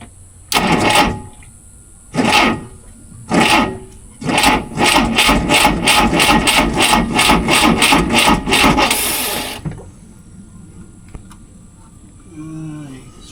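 An old boat's port engine, with no fuel in the carburetor, cranks in three short starter bursts and then one long rhythmic chugging crank that never catches, followed by quiet and faint voices.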